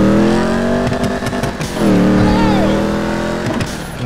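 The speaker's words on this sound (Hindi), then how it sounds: "भाई साहब बहुत तगड़ी आवाज आ रही है गाड़ी में।" The engine of a Z-Type car in GTA 5, driven with a steering wheel and gear shifter, revs loud and close, rising and falling through gear changes with brief drops between pulls.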